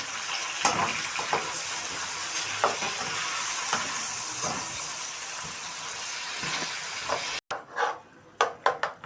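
Chicken liver and gizzards fry in a pan, with a continuous sizzle and hiss under repeated scraping stirs, then a brief cut to sparser clattering strokes.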